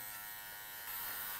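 Electric hair clipper buzzing steadily and close while cutting a mid fade haircut, a continuous motor hum that grows slightly louder near the end, with no speech.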